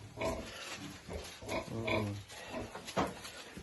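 Pigs on a farm give several close, rough grunts and snorts in irregular bursts, loud against a quiet background.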